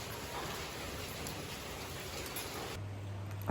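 Rain falls steadily outdoors, a dense even hiss of drops that holds at the same level throughout with no voices over it.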